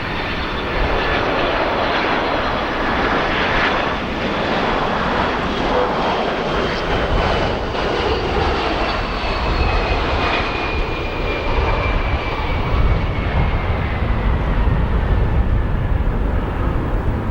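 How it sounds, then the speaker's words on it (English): A Boeing 767 lands at O'Hare airport with a loud, continuous jet engine roar close by, its broadband rush slowly shifting in pitch as the aircraft passes and rolls out. "Nice smoky landing for that 767 there."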